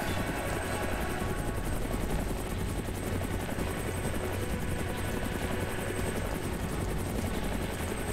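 A helicopter in the video game Fahrenheit keeps up a loud, unbroken whirring rotor drone with a constant engine hum throughout.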